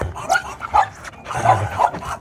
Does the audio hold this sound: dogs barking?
yes